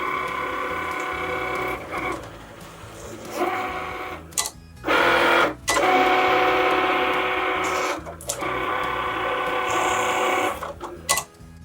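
A Cricut cutting machine works through a wood sign design, its motor whirring in repeated mechanical bursts broken by short pauses and clicks, heard close up with no speech.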